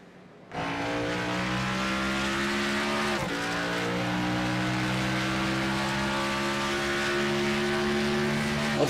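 NASCAR Xfinity Series race cars lap Circuit of the Americas, a loud, steady engine drone that kicks in after a brief quiet start, with sustained high revs and a short dip as a car shifts or passes before roaring on.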